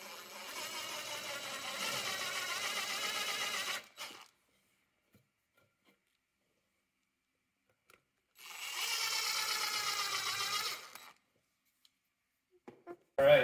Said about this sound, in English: Now I'm going to finish pre-drilling all the way through this, and then I'm going to countersink